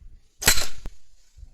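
A powder-actuated nail gun fires a nail into a 4 mm thick steel pipe: a single sharp, loud crack with a short ringing decay and a brief metallic tick just after, otherwise quiet.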